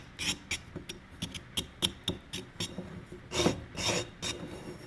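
Rasping, scratchy strokes as sharp edges are shaved off a plaster mould by hand, about a dozen short irregular scrapes in quick succession, close and fairly quiet, with no talking.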